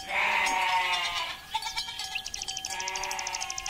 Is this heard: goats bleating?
yes